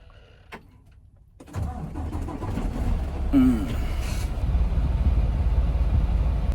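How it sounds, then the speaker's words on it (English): A truck engine cranks and catches, then settles into a steady, loud idle that rumbles on to the end, with a brief clunk just before it starts. "I might turn my truck on."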